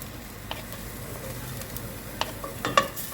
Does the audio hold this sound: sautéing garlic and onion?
yes